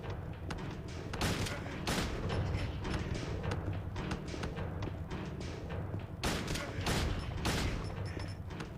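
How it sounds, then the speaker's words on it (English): Handgun shots fired in Silent Hill 2, a run of sharp cracks spaced irregularly over a steady game soundscape, loud and close. "Maybe I can use the handgun and go a little faster."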